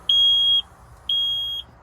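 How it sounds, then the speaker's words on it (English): Two long, steady electronic beeps from a Sea Ray Sundeck boat's ignition, evenly spaced with a short gap between them, clear and close with no talking. "Should hear 2 solid beeps."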